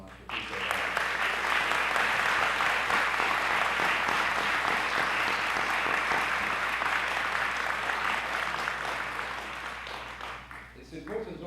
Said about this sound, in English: Students, you may want to give your teachers, past and present, your coaches a round of applause tonight.